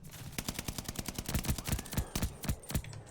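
Rapid pistol gunfire in an Epic video game, with sharp close shots in quick bursts that settle into a steady, fast rhythm and sit loud over the game's background.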